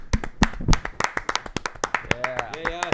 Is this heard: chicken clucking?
no